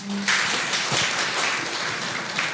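Brief applause from an audience after a lecture at an education workshop, a short steady patter of clapping lasting a couple of seconds.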